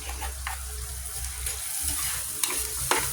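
Garlic frying in butter in a pan for buttered garlic shrimp, a close, steady sizzle and crackle with a few soft stirring knocks and no talk.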